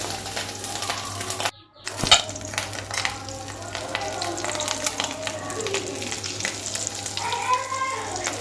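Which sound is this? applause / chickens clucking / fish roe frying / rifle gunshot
fish roe frying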